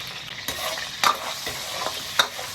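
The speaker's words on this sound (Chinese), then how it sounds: "多加点油，葱姜蒜爆香" Scallion, ginger and garlic sizzle in plenty of hot oil while a spatula stirs them, giving a steady fry with a few sharp scrapes, close and without voices.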